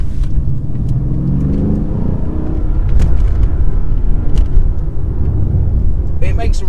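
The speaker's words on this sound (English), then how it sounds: "It makes a really nice noise from those quad exit exhausts." A Mercedes-Benz CLS 63 AMG with quad exit exhausts and a 7-speed automatic gearbox accelerates, its loud, close engine droning and rising in pitch as it pulls, with a steady rumble throughout.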